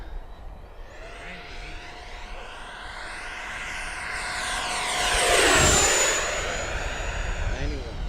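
An XFly Sirius 80mm RC electric ducted-fan jet screams past at full throttle, its whine rising as it approaches, peaking close by, then falling with a Doppler drop as it pulls away.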